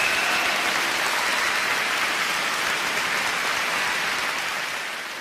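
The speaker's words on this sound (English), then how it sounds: "go ahead. Applaud yourself." Broad wash of audience applause at a spiritual lecture, a dense rain-like patter of many hands clapping at once, loud and sustained before tapering off slightly at the end.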